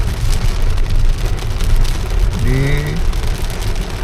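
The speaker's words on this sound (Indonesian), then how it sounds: "Hujan makin lebat." Heavy rain pours at a highway rest area on the Solo–Semarang toll road, a dense, steady hiss filling the whole stretch, with a brief voice breaking through midway.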